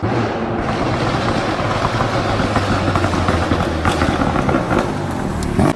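Rapid popping crackle from a car exhaust over a steady idling engine, continuous and close, like irregular popcorn bursts.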